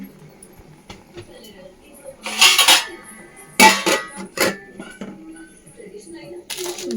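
A metal lid is set onto a cooking pot of greens and dal, with a few loud clanks and rattles separated by quieter kitchen noise.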